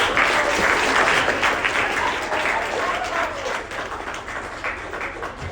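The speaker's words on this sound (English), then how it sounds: "Can we clap it up for Whiskey, please?" An audience at a mental-management workshop at Gannon University applauds steadily for several seconds. The clapping is dense and sustained, with a slight fade toward the end.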